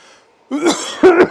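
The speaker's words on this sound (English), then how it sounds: "Sorry for all the heavy breathing" A cyclist catches his breath after a Zwift race with two loud, close, throaty exhalations, harsh and raspy like a cough or throat clearing, with a short gap between them.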